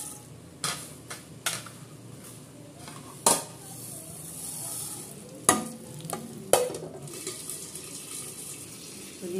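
Mustard seeds and urad dal crackle quietly in a pan for idli, broken by sharp clanks of a spoon against the pot and a low background hum, with no talk.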